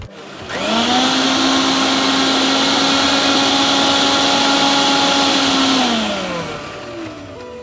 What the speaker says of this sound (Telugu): దీన్ని మిక్సీ పట్టేసుకోవాలి.